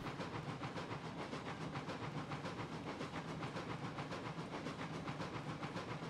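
Steam locomotive Little Bessie pulls away in Railroads Online, giving a faint, rapid rhythmic chuff of steam exhausts that repeats evenly and hisses throughout.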